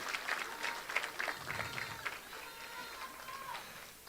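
Faint applause at a senior promotion ceremony at Harvest Preparatory Academy, honoring a school program: a thin, distant scatter of hand claps from the audience with a few voices calling out over it.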